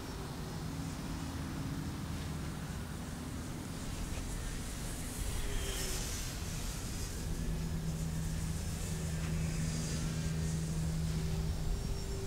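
An E-flite Air Tractor RC plane on a 4S setup flies overhead, a faint whirring motor drone that swells and fades over steady outdoor background noise.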